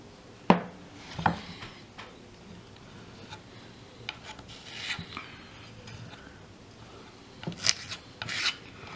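A wooden wind chime made of yellow wood is sanded by hand, giving soft rasping rubs that come in short bursts with quiet gaps between them. The sound is close and faint.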